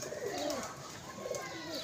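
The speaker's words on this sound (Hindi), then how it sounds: "बड़ा तड़फ रहा है यार ये कबूतर।" Pigeons coo in soft, low rolling phrases, two clear bursts close by, over a steady background hum with no talking.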